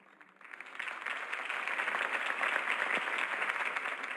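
Applause in the video game Batman: The Telltale Series swells quickly from a quiet start into steady, dense clapping from a large crowd, continuing evenly without voices.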